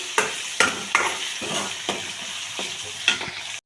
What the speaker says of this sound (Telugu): ఇందులో అయితే ఆనియన్స్ అన్నీ వేసి ఫ్రై చేద్దామండి. బాగా ఫ్రై అవ్వాలండి.